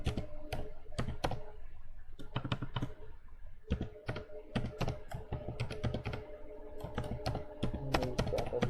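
Steady, close typing of Python machine-learning code on a computer keyboard: dense irregular keystrokes in quick runs with brief pauses over a faint background hum, no talking.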